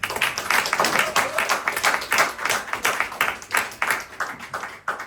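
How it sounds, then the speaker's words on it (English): An audience breaks into applause, with dense, steady clapping that rises and falls across the whole stretch. "Round of applause for that."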